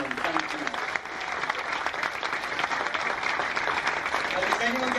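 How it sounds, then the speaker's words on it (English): A cruise ship audience applauds a pianist, the clapping dense and sustained at a moderate distance, with a voice speaking briefly near the start. "Ladies and gentlemen, please a huge round of applause for Dan on piano."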